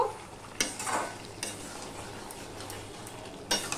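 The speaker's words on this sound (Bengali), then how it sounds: "দিয়ে সম্পূর্ণটা ভালো করে আমি মিশিয়ে নেব।" A spoon stirs garam masala through a yam (ol kochu) and potato curry in a pan, scraping and clinking a few times over a low, continuous simmering sizzle, close and without speech.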